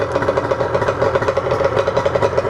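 A Yamaha RD 350 two-stroke motorcycle engine idles just after starting, a steady, loud burbling rumble with a fast, slightly uneven pulse running alone and close by.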